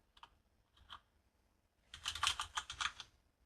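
Short bursts of computer keyboard typing: two isolated key taps, a pause, then a quick flurry of clicking keys, close and fairly quiet.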